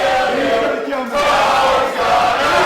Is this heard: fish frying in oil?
no